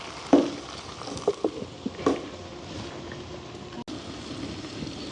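Onions and eggplant sautéing in a covered pan in a village kitchen, a low steady sizzle under a few sharp clinks and knocks of a utensil against the pan, with no voices.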